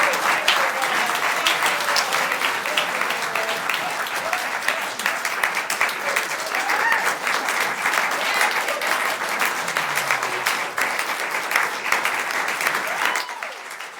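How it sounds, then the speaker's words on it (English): Audience applause after a spoken reading of a letter, dense sustained clapping from a sizable crowd holding steady for many seconds before tapering off at the end. "Y'all better clap, because that was good."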